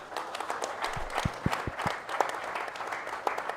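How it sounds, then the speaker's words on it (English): Golfers and guests applaud at a professional golf championship ceremony at Tollygunge Club, a moderate, steady patter of many hands with a few sharper individual claps standing out nearby. "Can we have a big round of applause for Tollygunge Club?"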